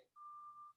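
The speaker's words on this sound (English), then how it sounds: "I don't know if you can hear beeping. There's like a truck outside my house." A single steady electronic beep from a truck outside a house, a thin sustained tone lasting over half a second, faint and distant-sounding with no talk over it.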